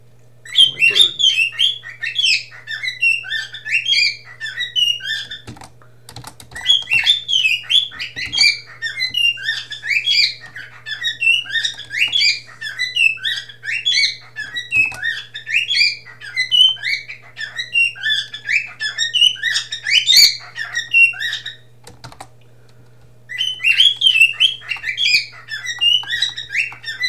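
Pet bird singing indoors: long, loud runs of rapid chirps and warbling trills with short gaps, nearby, over a constant low mains hum.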